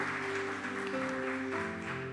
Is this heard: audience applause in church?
yes